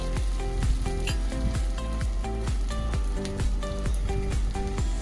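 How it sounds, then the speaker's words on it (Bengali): Batter and vegetables sizzle in a little oil in a frying pan, a steady close crackle with repeated clicks and light scraping from stirring, no talk. "ফ্রাই প্যান বসিয়ে নিয়েছি, ওর মধ্যে হালকা একটু তেল দিয়েছি, দিয়ে তো ব্যাটারটা একটুখানি ঘুরিয়ে দেবো"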